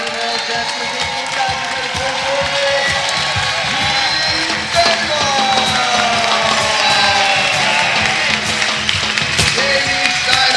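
A large crowd cheers and applauds for the winner of the IWA Ultimate Championship football tournament, a dense, loud, continuous roar with scattered claps and shouts that swells slightly partway through.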